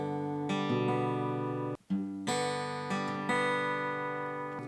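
A song fingerpicked on guitar at a faster tempo, a steady stream of close, clear plucked notes with a brief pause partway through before the pattern resumes.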